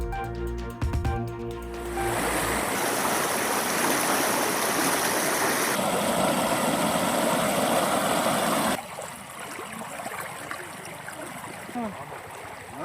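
Floodwater from a breached canal stream near Kanjampatti surges in a loud, continuous rush, close and steady, dropping somewhat in level toward the end with no talk over it.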